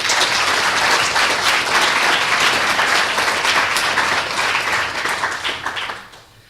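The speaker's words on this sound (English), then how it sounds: "Please, let's give him another round of applause." An audience at a university inaugural professorial lecture applauds in a loud, sustained wash of clapping that holds steady, then tapers off at the end.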